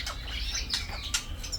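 A laughingthrush (Garrulax) calls at a bird market, a few quick, sharp, rising whistled notes close by over a low background murmur.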